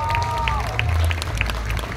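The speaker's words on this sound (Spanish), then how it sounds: "Quiero que le demos un aplauso a Carla Mari, por favor, que se sienta." Clapping from the audience at a tribute event, a brisk patter of applause over a low rumble and a sustained tonal sound that slides downward.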